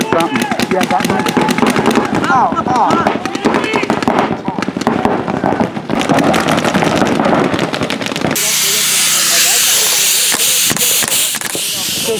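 Air hisses steadily from a paintball marker with a blown solenoid, a broad continuous rush that takes over after several seconds of rapid popping shots and voices talking.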